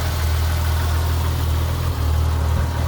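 A 1946 Chevrolet pickup engine idles steadily, a smooth low rumble that holds close and even throughout with no talk over it.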